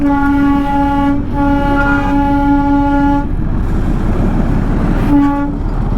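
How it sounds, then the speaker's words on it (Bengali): Darjeeling's famous toy train, a small hill railway, passes close by with a loud, steady sounding horn held over a rumbling run, broken by short gaps and a final blast near the end; no talking. "দার্জিলিংয়ের বিখ্যাত টয় ট্রেন।"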